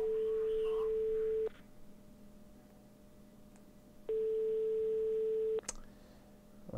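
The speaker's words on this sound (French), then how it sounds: "Ouais, ça sonne, ça sonne." A telephone in a GTA roleplay game rings with a steady electronic tone, two long rings separated by a pause, clear and mid-loud over faint background noise.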